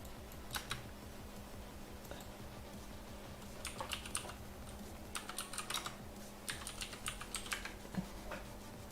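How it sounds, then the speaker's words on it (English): Keys clack in quick irregular bursts on a computer keyboard, faint and close, with short pauses between runs of typing. "Can you guys hear my keyboard when I'm typing?"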